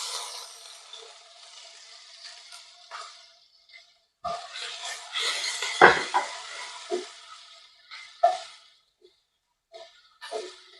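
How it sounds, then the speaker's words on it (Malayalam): Finely chopped ginger and garlic sauté in hot coconut oil in a pan for a chana masala curry. A sizzling hiss comes and goes, broken by the scrape and clink of stirring, with no talking. "എണ്ണയിലേക്ക് ചേർത്ത് കൊടുത്ത് നന്നായിട്ടൊന്ന് വഴറ്റിയെടുക്കുക."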